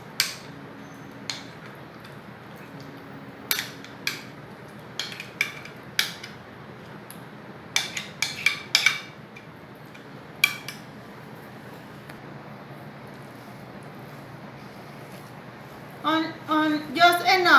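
Sauce and broccoli being mixed in a bowl, scattered sharp clinks and scrapes of a utensil against the bowl at irregular intervals, close and fairly quiet over a low room hum, a quicker run of clatter at the end.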